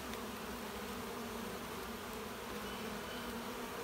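Honey bees buzz steadily at an open hive during a brood inspection, a dense continuous drone with no speech.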